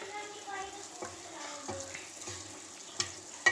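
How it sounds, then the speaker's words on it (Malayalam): Two pieces of butter melting in a pan while Chinese chicken is cooked, giving a steady, fairly faint sizzle with a few light clinks and stirring taps. "ഇനി നമ്മൾ ബട്ടർ ഇട്ട് കൊടുക്കുകയാണ്. 2 പീസ് ബട്ടർ ഇട്ട് ഗൈസ്."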